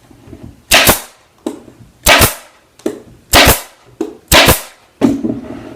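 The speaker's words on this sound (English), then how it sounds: "Take your staple gun." A staple gun shoots staples through fabric into a wooden cornice being upholstered, six sharp, loud snapping shots spaced about a second apart, each with a short clack, close up with no talk.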